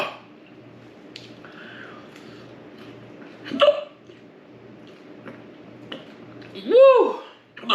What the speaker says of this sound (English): Oh, I got the hiccups.